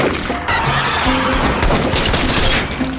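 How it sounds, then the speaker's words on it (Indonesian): Gunfire exchange in a movie scene at a gas station: dense, continuous loud bursts of shots and crashing impacts blending into a roaring wall of noise throughout. "Keadaan berubah drastis ketika baku tembak terjadi di area pom bensin."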